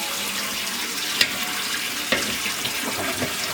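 Tap water runs steadily in a shop tub as something is rinsed off, a close hissing splash with a couple of brief knocks partway through and no speech.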